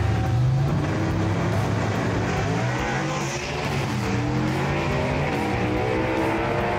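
A 1958 Corvette drag race car, the Silver Streak 2, roars at full throttle down the strip, loud and sustained, its engine note rising steadily with no voices over it.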